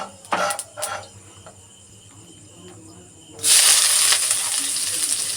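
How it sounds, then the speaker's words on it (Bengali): Whole cumin seeds hit a spoonful of hot oil and burst into a loud, steady sizzle after a few brief clatters and a quiet stretch, the hiss staying bright and close to the end. "এক চামচ তেল দিয়েছি আর গোটা জিরে ফোড়ন দিলাম একদমই সামান্য তেলে নাড়াচাড়া করে নেব"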